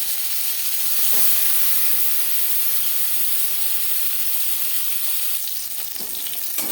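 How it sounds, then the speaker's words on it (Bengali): Marinated vola fish sizzles loudly and steadily in hot refined oil, a continuous bright crackle with spitting, no voices. "এবার দিয়ে দেবো ম্যারিনেট করে রাখা মাছ।"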